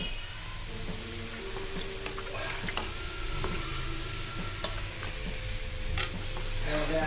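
Kandarappam batter cakes frying in hot oil, a dense steady crackling sizzle that runs throughout, with occasional clicks and scrapes as the cakes are turned over in the pan; no one speaks.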